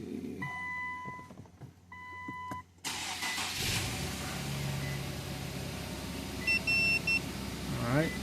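Infiniti Q50 with a P0335 crankshaft sensor fault: a few electronic chimes, then the starter cranks the engine and it catches into a running idle, with a voice briefly talking near the end.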